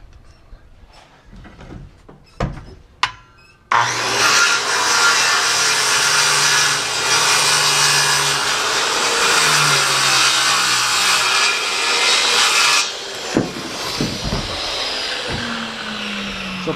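A saw rips through wooden blocks being cut on a 16-degree bevel, a loud continuous cut of about eight seconds after a few short knocks, ending with scattered tapping and handling noises.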